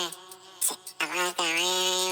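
A vocal sample of nonsense syllables pitched up 1200 cents, giving a high, chipmunk-like singing voice in a few short sustained phrases with brief gaps between them.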